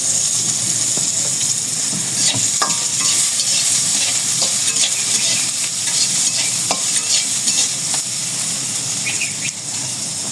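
Two dishes cooking together on a home stove, a steady loud sizzle and frying hiss with intermittent scraping and stirring clatter from a utensil in the pan, no talking.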